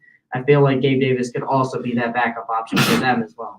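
A sharp sneeze bursts out near the end, right after a man's steady close-up speech.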